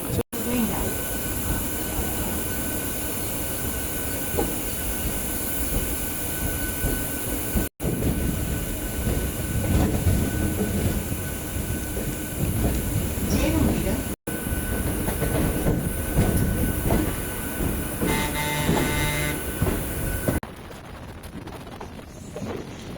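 A Thiruvarur MEMU passenger train running on the Chennai to delta route, a loud continuous rolling roar with rattling wheels and occasional squeals heard from inside, briefly cutting out twice, no talking.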